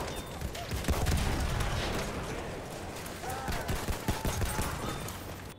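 Rapid gunfire from the Trench Carbine in the shooter game Battlefield 1 comes in dense, loud bursts of sharp shots that run almost without a break, layered over battlefield noise.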